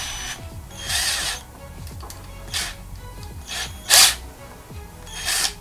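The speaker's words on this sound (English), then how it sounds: "All right, so we got the power drill right here. Let's test it out." Wakyme cordless power drill driver whirring in several short bursts of spinning, each rising and dying away, with a ratcheting click between runs, close and fairly loud.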